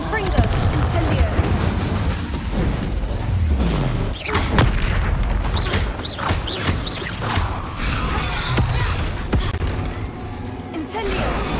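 Spell blasts from Confringo and Incendio boom repeatedly in Hogwarts Legacy, loud and dense with crackling impacts and rumbling bursts in quick succession.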